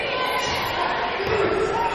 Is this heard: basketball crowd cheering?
yes